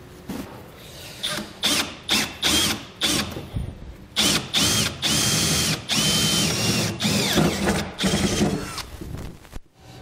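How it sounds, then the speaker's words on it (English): A power drill with a 9/16 inch bit drills holes in a Ram truck bed, whirring in repeated short bursts, stopping and starting, then running in longer pulses with brief pauses, loud and close. "So as we're drilling our holes,"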